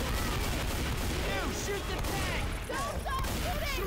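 Gunfire in the zombie shooter Left 4 Dead 2 as players fight a tank, a loud chaotic mix of shots and booms. Excited voices talk and shout over it.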